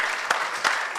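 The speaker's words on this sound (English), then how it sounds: "Let's give him a round of applause." Brief applause from a conference audience at the Surgical Society of Kenya annual scientific meeting, a dense, even clatter of hands lasting about a second.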